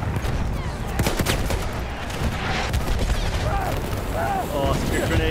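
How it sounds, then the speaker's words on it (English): A grenade explodes amid dense gunfire and battle noise in the World War I shooter Battlefield 1, loud rapid shots and booms layered over continuous rumble, with a voice talking over the chaos. "Oh, that's a good grenade."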